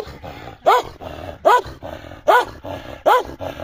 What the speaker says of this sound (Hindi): बड़ा गुस्से वाला कुत्ता।